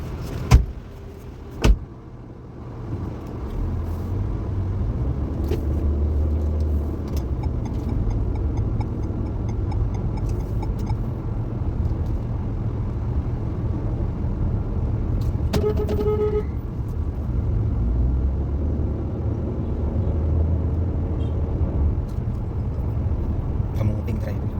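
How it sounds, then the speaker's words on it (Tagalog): Busy street traffic with car engines idling and passing, a few sharp horn toots near the start and mechanical door or window sounds, continuous and fairly loud, with faint voices in the background. "Traffic, oh."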